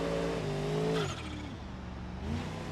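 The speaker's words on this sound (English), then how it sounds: "This isn't supercharged, this is turbo." Turbocharged car engine with nitrous in a racing video game, droning loudly and steadily, its pitch dipping and then climbing again as it shifts and revs, with no talk over it.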